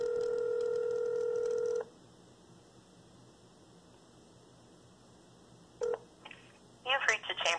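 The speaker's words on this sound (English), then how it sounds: "it's the Honorable Mallory D. Cooper that I'm calling." A phone call to a judge's chambers: a steady dial tone plays for about two seconds, then after a quiet gap, short bursts of touch-tone dialing beeps sound close and clear.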